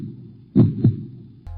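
A heartbeat sound effect gives two deep, close thumps in quick succession over a faint low hum, followed by a brief pause before a steadier hum starts.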